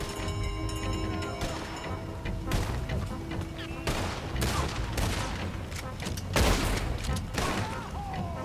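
Gunfire fills a Red Dead Redemption 2 shootout: dense, overlapping volleys of shots and booming reports burst out continuously, with loud cracks clustering around several peaks and brief voices mixed into the din.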